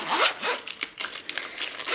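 A zipper on a three-part pencil case is pulled open close by in quick, raspy strokes, several short zips running together with no talking.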